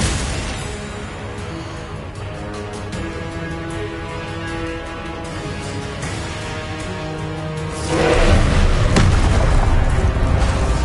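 Spell blasts from the Confringo fire spell in the Hogwarts Legacy video game, booming over a dense game soundtrack, with a louder, fuller burst near the end.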